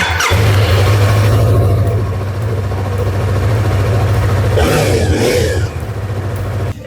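A motorcycle engine cranks and catches after a missing fuse is repaired, then settles into a loud, steady idle close by, with brief rustling noises partway through.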